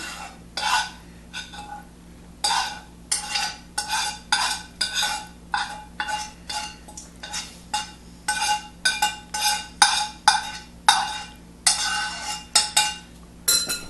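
Sautéed cheese empanada filling is stirred in a pan or bowl with a utensil, giving close, rhythmic scraping and clinking strokes repeated steadily for over a dozen seconds, with no talking.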